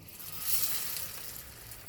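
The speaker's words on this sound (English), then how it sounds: "oil in our pan, shallow frying, and then we will fry this" Hara bhara kebabs shallow frying in a pan of hot oil give a steady, soft sizzle that swells slightly midway and holds at an even, fairly quiet level throughout.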